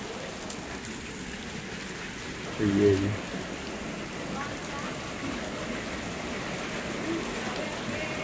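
Very heavy rain falls on an Indonesian village, a dense continuous patter and hiss of drops on surfaces, with a brief voice speaking partway through.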